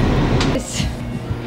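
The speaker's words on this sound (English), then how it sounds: "We're now on the train." Inside a train held briefly by the dispatcher, a steady loud low rumble and hum fills the car, with a faint brief hiss partway through.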